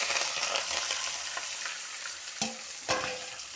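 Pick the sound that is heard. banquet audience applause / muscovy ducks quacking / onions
onions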